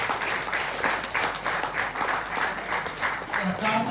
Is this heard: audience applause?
yes